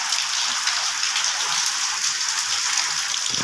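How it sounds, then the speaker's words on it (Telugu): Heavy rain lashes down on a house in Hyderabad during a violent windy storm, drumming on the roof tiles as a dense, steady, loud roar that never lets up. No one speaks. "గాలి వాన బీభత్సంగా వస్తుంది, మామూలుగా లేదు."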